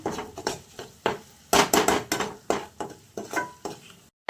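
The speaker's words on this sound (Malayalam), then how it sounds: "ഒന്ന് മിക്സ് ആക്കി കൊടുക്കാം" Salt being stirred into a thick mango pickle spice paste: a rapid series of close, scraping strokes of a spoon against a pot, each stroke a distinct rasping burst with short pauses between.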